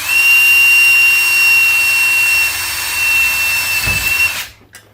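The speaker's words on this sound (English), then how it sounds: "one more time try to drill" A power drill bores into copper, whining at a high steady pitch, close and loud, with a brief low thud before it cuts off.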